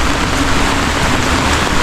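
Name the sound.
heavy rain during flood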